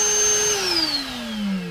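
Harbor Freight Bauer cordless vacuum running close up, a steady loud whine with a high tone that slowly glides downward, no voices.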